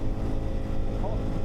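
KTM 390 Adventure R motorcycle engine holding about 6,000 RPM at highway speed, a steady low drone mixed with constant wind rush, loud and unbroken throughout.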